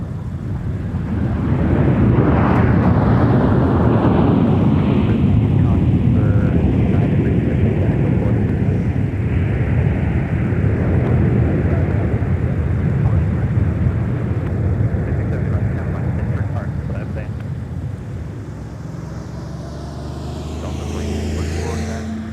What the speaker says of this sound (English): We'll take another look at our Delta A321 arrival. This is coming in from Las Vegas.